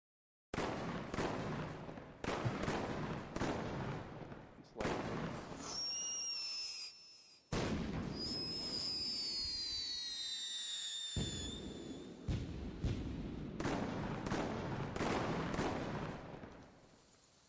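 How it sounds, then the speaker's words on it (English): Firecrackers in the video game Pyroworks go off as sharp bursts of crackling pops in clusters, with whistling rockets rising and fading between volleys. "there's still so many firecrackers that didn't even go off"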